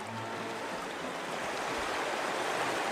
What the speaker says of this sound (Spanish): Es el sonido del río y el lago que hay en la ciudad en la que nació